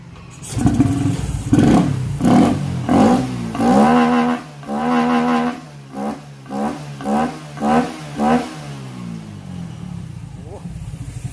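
Honda Wave110i motorcycle with a long aftermarket air filter, revved hard in a series of loud close blips, rising and falling about a dozen times before settling to idle.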